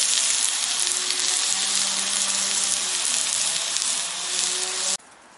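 Onions stir-frying in a pan for a camping beef stew, a steady, loud hiss of sizzling that runs without a break and then cuts off abruptly near the end.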